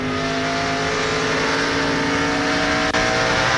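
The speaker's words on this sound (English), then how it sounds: "Let's listen to Hank right along with him and see how his car is handling." In-car audio from a 2001 NASCAR Busch Series race car, a loud steady engine drone held at high revs throughout, with one brief dip near the end, like a quick lift off the throttle.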